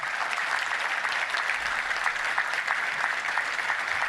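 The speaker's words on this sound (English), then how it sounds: "Let's go ahead and give him a round of applause." Audience applause at a Little Rock Touchdown Club luncheon honoring Major Foster C. Jock Davis of Russellville, a dense, steady wash of many hands clapping throughout, fairly close and even.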